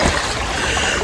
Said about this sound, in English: this creek has been raging the last couple of weeks